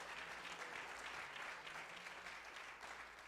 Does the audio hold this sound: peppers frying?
no